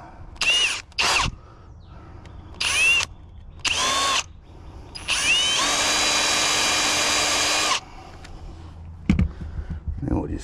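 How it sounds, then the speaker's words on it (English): Power drill boring a screw hole during a cooler install: several short, close whirring bursts, then one longer steady run of a few seconds, followed by faint handling noise. "And you're only going to drill the outside."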